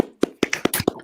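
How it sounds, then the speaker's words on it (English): A small group claps in short bursts, about five sharp slaps spread over a second in a comedy workshop room, fairly close and loud with no talking. "Clap it up."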